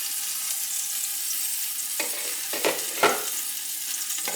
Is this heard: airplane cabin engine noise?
no